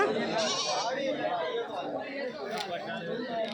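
Goats and male goats bleat now and then at the Kadiri livestock market amid a busy crowd of people chattering and talking nearby.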